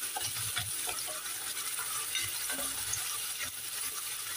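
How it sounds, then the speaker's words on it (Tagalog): Steady sizzling of sliced onions frying in hot olive oil in a casserole pan, with occasional stirring scrapes and clinks, close and continuous. "nilagyan natin ng olive oil ang ating kaserola, tapos nilagay natin ang ating small slice na onions."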